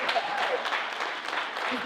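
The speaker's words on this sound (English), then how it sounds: "It's always nice, clap please" Audience clapping at a Night of Black Excellence program in Pleasanton, after a board member is introduced from the front table; a steady, moderately loud patter of many hands runs throughout, with some faint voices underneath.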